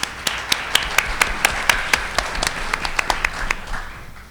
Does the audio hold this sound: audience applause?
yes